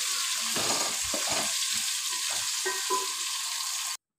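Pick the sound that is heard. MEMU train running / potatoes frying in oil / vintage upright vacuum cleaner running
potatoes frying in oil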